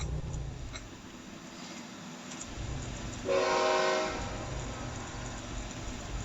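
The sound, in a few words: train horn in video game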